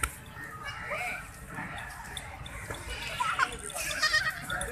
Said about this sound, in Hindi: माशाल्लाह यार बहुत ही खूबसूरत बकरी है यार